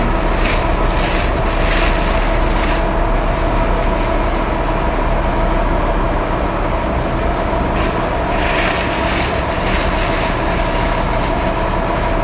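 Boat motor droning steadily and loudly throughout, mixed with wind and water noise, on an open boat ride in the rain.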